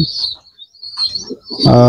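A Gresik or Surobayan pigeon gives short, soft cooing calls close by in quick, broken bursts, ending with a louder, fuller call.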